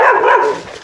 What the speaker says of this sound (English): Friendly little dogs.